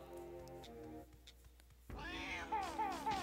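A cat warrior enemy in the Banjo-Tooie video game lets out several rising, wavering meows in a row over game music, close and clear.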